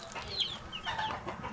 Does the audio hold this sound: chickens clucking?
yes